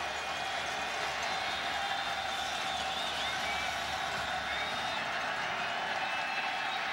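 Large football stadium crowd of more than 13,000 on their feet at a Northern Illinois Huskies home game, a steady dense roar of cheering and clapping sustained throughout, loud and continuous with no single standout shouts.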